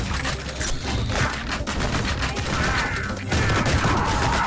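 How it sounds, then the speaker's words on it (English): Rapid volleys of gunfire from the revolver in the first-person shooter Ion Fury, dense and loud throughout, layered over busy game effects and mechanical clatter with no pauses. "Wonder if I can shoot them with the revolver."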